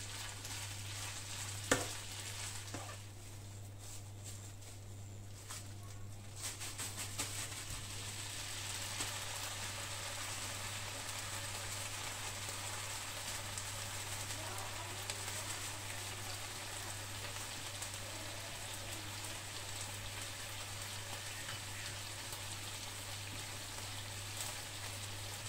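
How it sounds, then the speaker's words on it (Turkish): Foraged wild mushrooms sauté in a pan with oil, giving a soft, steady sizzle throughout, with a brief clank near the start. "Mantarımı da biraz kavuracağım. Bu zaten yarı kavrulmuş."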